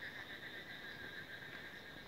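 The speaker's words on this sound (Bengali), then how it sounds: "ব্যাঙের ঝিঝি ডাক আপনারা শুনতে পাচ্ছেন" Frogs keep up a faint, continuous droning chorus of high, even trills after record heavy rain left standing water in Pithalitola, Shibganj, Chapainawabganj, with no other sound breaking through.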